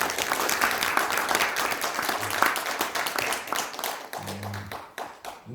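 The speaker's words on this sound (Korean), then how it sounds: "박수 좀 부탁드리겠습니다." Audience applause at the close of an invited lecture in Sejong, a broadband clatter of many clapping hands filling the hall, steady and fairly loud before thinning out toward the end, with brief low voice-like hums.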